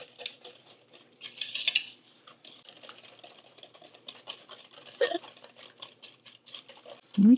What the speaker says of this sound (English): now we're going to take our whisk and just mix this together.